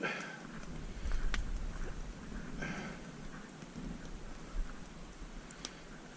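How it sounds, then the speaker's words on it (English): Steady winter rain patters on foliage and surfaces in a Scottish forest, a soft continuous hiss with occasional louder drops and low rumbling. "The rain's hinting at coming back on again"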